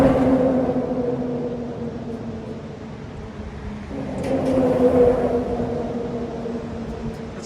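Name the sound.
road traffic beside Gorge Creek Falls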